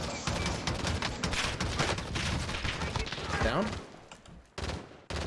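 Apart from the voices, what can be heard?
gunfire in a video game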